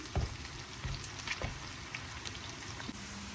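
Tadka tempering sizzles in a pan while moong dal is cooked, a continuous close frying hiss with scattered pops and crackles and a few louder spits near the start.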